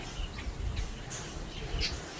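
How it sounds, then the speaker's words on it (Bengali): Faint, sparse bird chirps, a few short high tweets scattered over a quiet low background rumble. "এই দেখো এই দেখো সালকি পাখিগুলো চি চি চি চি করে যাচ্ছে।"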